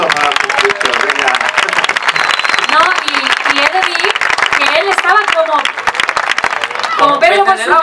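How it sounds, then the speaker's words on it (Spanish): Audience at a summer festival talent final in Palma applauding a singer, sustained clapping throughout with voices talking and cheering over it. "un fuerte aplauso para ti"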